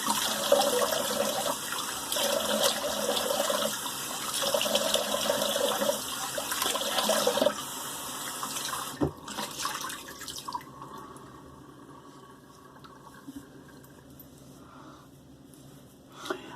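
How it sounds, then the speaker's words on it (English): Cold tap water runs steadily into a bathroom sink to rinse after a shave, a close, even rush of water that stops partway through, leaving a few faint drips and quiet handling sounds. "Do a cold water rinse."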